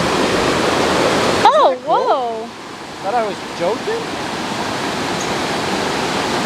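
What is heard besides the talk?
waterfall where two streams join in Jardín, Colombia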